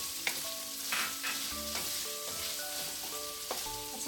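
Baguio beans go into pork frying in a pan for vegetable lumpia filling, with a soft continuous sizzle and several light scraping stirs and clinks of a utensil against the pan, heard close and fairly quiet.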